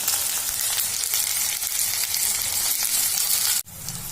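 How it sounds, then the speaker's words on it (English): Sliced onions, garlic and whole garam masala dry-frying in an iron wok without salt, a steady close hiss with faint scraping, briefly cut out near the end before resuming. "we will put some sliced onions and garlic and some khada garam masala together in that iron wong, and we'll fry it"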